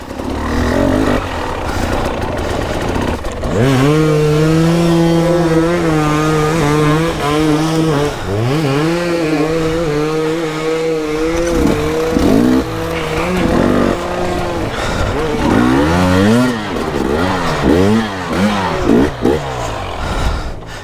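A dirt bike rides an enduro trail through deep mud and bog in winter woods, its engine revving loudly and continuously with rising and falling pitch as the throttle works, close and dominant throughout.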